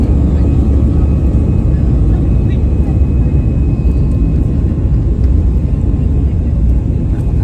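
Steady, loud low rumble of a passenger airplane's engines during takeoff, heard from inside the cabin on a first flight, a constant broadband roar filling the whole stretch with faint whirring above it.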